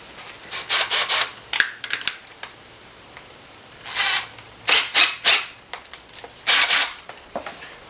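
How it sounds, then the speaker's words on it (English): Bursts of abrasive rubbing from a 3M eraser wheel spinning in a drill, removing a vehicle badge, several short passes separated by quiet gaps, close and fairly loud. "we're going to try to take our 3M eraser wheel, stick it in our drill"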